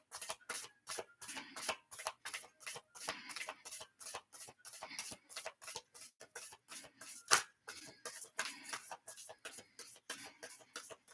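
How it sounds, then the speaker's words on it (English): Tarot cards riffled and shuffled by hand in a quiet room, a long run of close, crisp, rapid flicks and soft slaps repeating in steady bursts, with no voices. "Two more shuffles after this."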